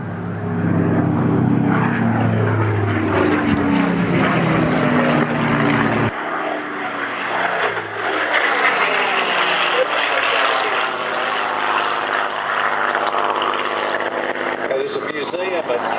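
A Supermarine Spitfire Mk VIII roars overhead at an air display, loud and close, its propeller engine drone shifting pitch as it passes, with a voice speaking over the noise.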